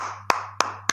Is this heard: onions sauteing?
no